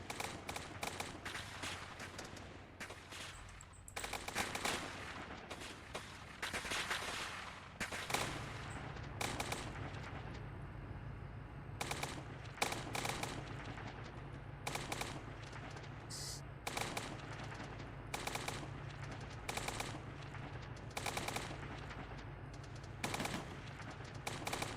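Rapid machine-gun fire rattles in dense, repeated bursts throughout, sharp clustered shots over a steady low drone, continuing with brief gaps and no talk.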